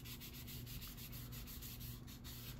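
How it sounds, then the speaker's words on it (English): Sandpaper rubbed back and forth over the body of an Estes Hi-Flier XL model rocket, a faint, quick rhythmic scratching of repeated strokes heard close and alone. "Just kind of let the sandpaper do the work"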